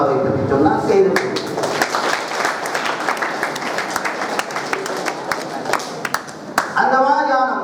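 An audience at a science talk claps in a lively burst of rapid, overlapping hand claps, with a speaker's voice heard just before the clapping begins and again as it fades.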